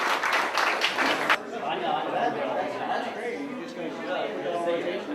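At a mayor's International Day of Peace 2014 event, audience applause crackles loudly for about a second, then quickly gives way to people speaking with faint crowd chatter.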